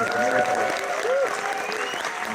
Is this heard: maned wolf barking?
no